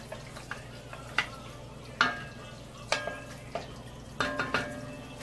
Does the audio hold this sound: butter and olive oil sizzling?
yes